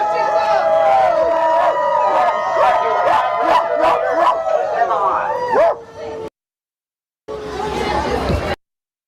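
A protest crowd imitates animals on cue, voices barking, yipping and howling together in a loud, dense chorus, then breaking off into silence before a short renewed burst of voices.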